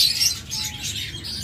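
A mutation pair of pet birds chirps in quick, high, bright bursts, fairly close, over a soft steady room hum, with no voices.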